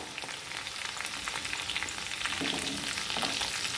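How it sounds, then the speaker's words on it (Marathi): Food sizzling and being stirred in a frying pan just after a pinch of asafoetida goes in, a steady close frying hiss with occasional scraping, no voices. "छान हलवून घ्यायची ती थोडंसं हिंग टाकायचं आहे आपल्याला"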